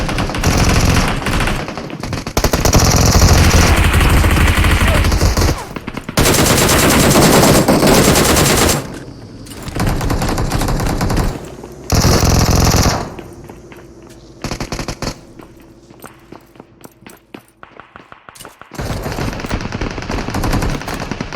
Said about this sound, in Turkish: Abi hiçbir şey duyamıyorum da bir sıkmayın ya.